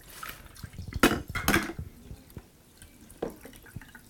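Water pours and drips into the tank of a Melitta Excellent 5.0 Deluxe filter coffee maker, filled to the 10–15 cup mark, with a few louder splashing bursts and clinks over a quiet kitchen background.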